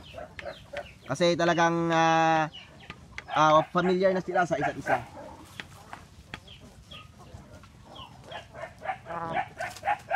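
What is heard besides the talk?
roosters and chickens clucking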